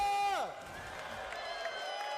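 Fans clap and cheer in an esports arena during a Mobile Legends: Bang Bang match at a Snapdragon cup. A falling electronic game tone opens, then a moderate crowd roar carries on beneath faint voices.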